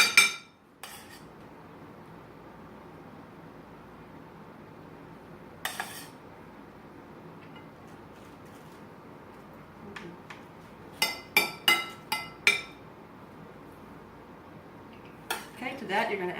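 Plating cilantro rice with tilapia fillet onto a dish: sparse clinks and scrapes of a utensil against the plate, isolated knocks early on, then a quick cluster of sharp taps near the end, close and fairly quiet.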